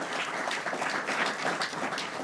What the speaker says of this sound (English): Let's give the Mayor and Governor another round of applause